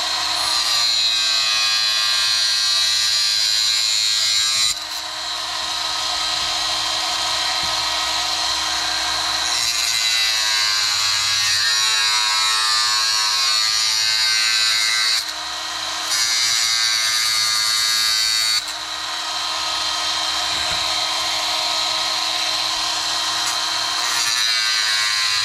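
A power tool saws the corners off a homemade replacement lens in a loud, continuous high-pitched whine, pausing briefly about three times between cuts.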